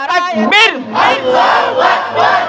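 A large crowd at an Islamic sermon gathering chants Allahu Akbar in answer to a takbir call, loud rhythmic swells of massed voices rising and falling in repeated waves, close and powerful.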